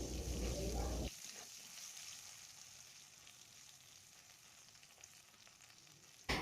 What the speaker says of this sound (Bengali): এবার আলুটাকেও আমি ভেজে তুলে নেব